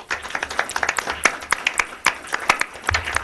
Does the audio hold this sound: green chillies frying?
no